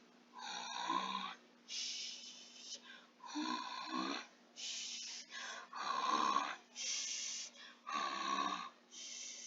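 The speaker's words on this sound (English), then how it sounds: "A snore! It's coming from over there." Cartoon snoring from a sleeping character, a run of loud rhythmic snores about every one to two seconds, each rising and falling with breathy snorts, close and alone.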